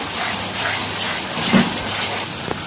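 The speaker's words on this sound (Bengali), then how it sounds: "এর মধ্যে একটু জল দিয়ে দিলাম" Water poured into a hot pan of chicken masala with ginger, garlic and tomato, a short gushing splash and sizzle rising briefly midway over steady kitchen background.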